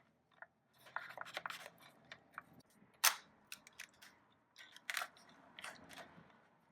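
Sharp clicks and snaps at close range come from a springform pan's metal clasp being released around a dark chocolate cake, several irregular bursts with one loud crack in the middle, no talk.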